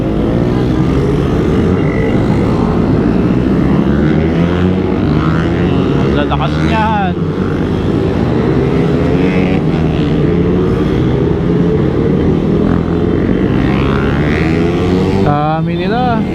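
A group of Raider R150 motorcycles, some running without mufflers, ride and rev together in a steady, loud engine drone throughout, with a voice speaking briefly over the noise.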